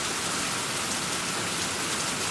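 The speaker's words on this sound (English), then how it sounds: "I hope we don't have a big deluge of that big hail, because that's really good sized hail." Steady heavy rain pounding down during a big storm with good-sized hail, a dense unbroken hiss with no pauses or voices.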